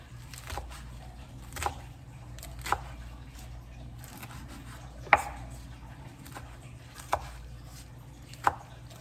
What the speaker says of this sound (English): I'm gonna chop it also a little bit. Not too much. Just a little bit.